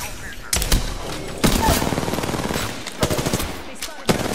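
Apex Legends gunfire: sharp bursts of rapid automatic shots, including a sustained rattling volley and separate single cracks, loud and close, with a voice speaking partway through.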